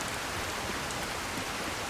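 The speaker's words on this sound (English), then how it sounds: "It's a rainy, shitty day." Steady rain falling in the fantasy video game Skyrim, an even, soft hiss of drops that continues without a break and with no voices over it.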